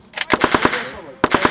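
Rapid automatic gunfire rattles out in two close, loud bursts: a fast string of shots, a brief lull, then another volley.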